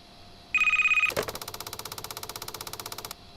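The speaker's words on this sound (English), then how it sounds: "That phone is ringing." An old-style telephone bell rings in a sewer night-shift video game: a shrill tone briefly, then a loud, rapid metallic ringing rattling on for about two seconds before stopping, with no talk.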